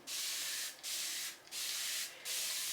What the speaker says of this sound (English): So I'm just gonna spray that on there to sort of mix with that in-style fixer